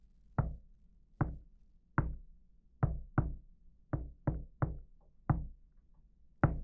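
Knocking on a door: about eleven sharp, close knocks in uneven clusters of singles and pairs, crisp against a quiet low hum.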